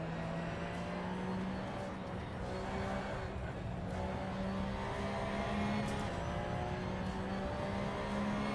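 A race car engine in Assetto Corsa drones steadily under a sustained whine, held at a fairly constant pitch with slight swells, a continuous, moderately loud hum throughout with no pauses.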